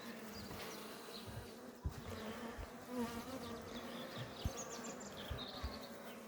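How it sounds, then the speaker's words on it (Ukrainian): Honey bees of a local breed buzz around a hive frame in a soft, continuous drone, with a few faint knocks and bumps scattered through it. "Ось вам, друзі, і місцева бджола"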